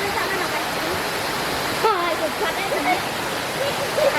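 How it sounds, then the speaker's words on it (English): Waterfall in a forest in Thailand, a constant broad rushing roar of falling water, close and steady, with people talking over it. "So this is the waterfall where we came to take pictures."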